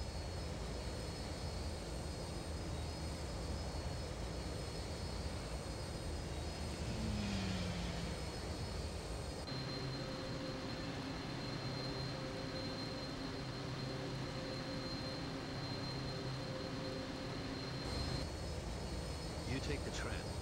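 Spaceship engines roar past during a tram attack in Jedi Knight: Jedi Academy, a steady dense rumble with a shift partway through and brief whooshing passes layered over it.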